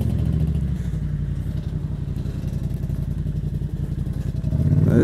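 A Mito motorcycle, 47 horsepower restricted to 35 kW, rides along with a steady buzzing engine drone and rhythmic pulsing, close and loud throughout, swelling slightly at the end, with no talking.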